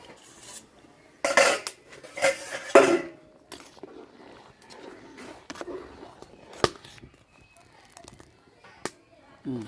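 A lid is set onto a cooking pot after rice goes in for katla fish dum biryani, giving a few sharp metallic clanks and clinks in quick bursts amid quieter kitchen handling, with someone speaking nearby.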